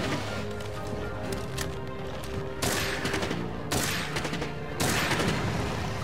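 Rapid bursts of Monster Hunter World gunfire crackle in quick volleys over a steady electronic music bed, loud and close, with no talking.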